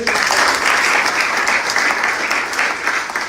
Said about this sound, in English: So please, one more clap for Omoyele.